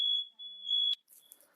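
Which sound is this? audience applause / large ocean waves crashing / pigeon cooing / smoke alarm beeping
smoke alarm beeping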